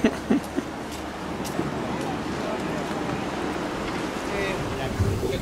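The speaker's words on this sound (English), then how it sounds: "here's the boat that's going to take us over to the aeropuerto" An open lobster boat moves over the sea off Juan Fernandez Island, a continuous rushing wash of water and wind noise with a few brief bumps at the start.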